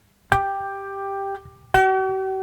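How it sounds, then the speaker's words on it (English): Two plucked cigar box guitar notes, the fretted note slightly sharp, each twangy and sustaining, with a short gap and a faint tap between them. "the fretted note sounds like that, which is a bit sharp, it's a bit too high pitched"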